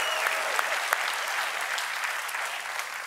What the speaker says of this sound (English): Not sure what we're applauding, but I'm in